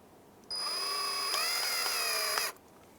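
A power screwdriver drives small Phillips screws into a Honda Element front interior door handle, one steady two-second whine that bogs slightly as the screw seats, close and clear with no talk.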